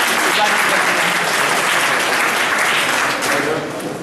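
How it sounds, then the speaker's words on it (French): An audience at a conference bursts into steady, dense applause that stays loud throughout and eases off slightly at the end, with no voices over it. "S'il vous plaît, veuillez applaudir."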